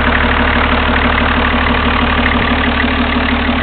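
A 1991 Toyota Land Cruiser diesel engine idles steadily and loudly up close, a constant low rumble with a faint knocking texture and no voices.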